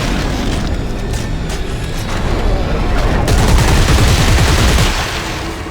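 Dense, sustained gunfire from Dead Space 3 as a player pours shots into a monster, a loud continuous barrage of overlapping blasts and booms that swells in the middle before easing off.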